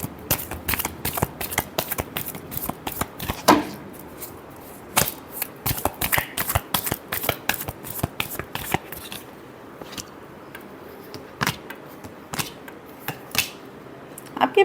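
Tarot cards are shuffled over and over in quick, crisp riffling bursts, close and fairly loud, with a steady clicking rhythm that thins out into scattered taps toward the end. No one speaks.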